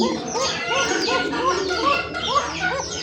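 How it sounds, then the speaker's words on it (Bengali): A koka bird, a kept pigeon-type bird, gives a run of rhythmic, repeated cooing calls close by, each note rising and falling in quick succession, with a little background chatter and other birds faintly behind. "কোকার ডাক শুনলেই মন শান্তি, এতটাই ডাকাডাকি করে"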